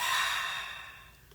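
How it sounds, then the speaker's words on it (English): A deep exhale through the mouth during a guided breathing exercise, one long airy breath that is loud at first and fades over about a second. "And then exhaling through the mouth."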